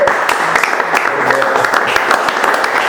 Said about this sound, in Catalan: Primer de tot aplaudirem